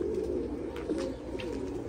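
Pigeon chicks cooing steadily in a loft among a newly bought batch of thirty young birds, a continuous low murmuring coo that carries on without a break.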